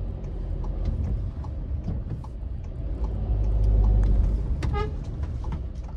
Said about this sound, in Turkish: siz de basın kornaya